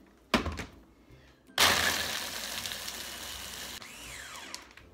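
A Ninja blender crushes ice cubes: a sharp clunk, then a loud grinding roar that gradually eases into a steadier whir, close and without talk.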